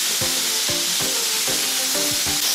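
Ground meat fries in a pan on medium heat, a steady bright sizzle with rhythmic stirring scrapes repeating about every half second, close and continuous with no talking.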